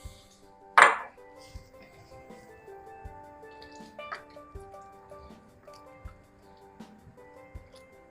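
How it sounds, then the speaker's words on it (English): Frozen pearl onions tumbling into a hot pot for beef bourguignon, a sharp clatter at the start followed by scattered small ticks, taps and settling clinks in a quiet kitchen. "I've got a package of frozen pearl onions, which are dropping in"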